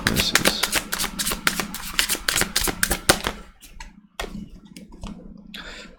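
Tarot cards riffled and shuffled by hand, a rapid run of crisp close flicks followed by a pause and a few separate card snaps as cards are drawn and laid down, with no talking.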